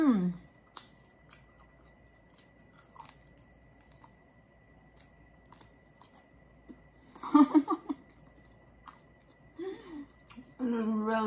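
Beef short ribs being chewed close to the mic: soft, wet chewing and squishy mouth sounds at a quiet level, with short bursts of appreciative murmuring and a voice near the end.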